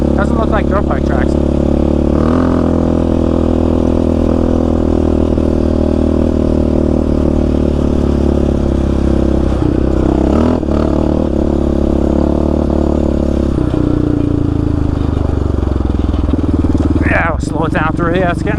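A Yamaha Raptor 700 ATV rides through washed-out Arizona desert trails and washes, its engine droning loud and close throughout, with throttle changes, clattering over rough ground and speech over the engine.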